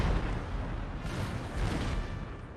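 Dense, rumbling barrage of Napoleonic-era cannon and artillery fire on a Total War: Napoleon battlefield, continuous booming blasts overlapping into a heavy roar with no clear pauses.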